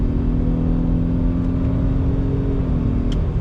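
A 2020 Ford Explorer Hybrid Limited SUV accelerating under throttle, its engine note rising steadily in a close, continuous whir with a smooth shift near the end and no talking.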